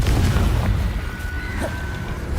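A Confringo spell blast in the Hogwarts Legacy video game, a loud, booming burst with a rumbling low tail and a thin whistling tone trailing off near the end.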